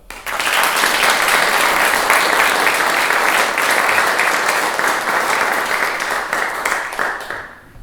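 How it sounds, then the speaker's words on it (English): Audience applause at a charity fundraising show, a dense, loud, steady burst of clapping from a crowd that rises quickly, holds for several seconds, then fades toward the end, with no talking over it. "let's start the event off with a round of applause for Roz and all her hard work"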